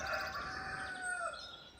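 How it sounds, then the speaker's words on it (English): A young rooster crowing on a small farm in Portugal: one drawn-out, slightly wavering cock-a-doodle-doo, close and clear, with no talk over it. "That kukokieku or cock-a-doodle-doo that you've just heard is our new rooster."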